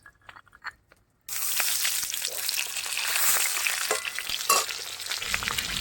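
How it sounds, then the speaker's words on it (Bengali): Rohu fish pieces frying in hot oil give a steady, dense sizzle with crackling pops that starts abruptly after a brief quiet stretch of faint kitchen noises and continues close and strong. "মাছগুলো লাল লাল করে ভাজা হয়ে গেছে"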